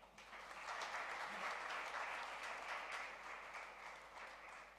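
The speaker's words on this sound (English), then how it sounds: "deserve a huge round of applause again" An audience at a charity awards night for a Mumbai marathon breaks into applause, a steady, even wash of many hands clapping, heard faintly and without talk over it for a few seconds.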